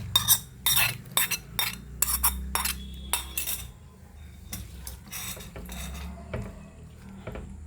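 Fried mustard tempering is poured into a pot of curry, with sharp metallic clinks of a utensil against the pan and a soft sizzle, close and fairly quiet.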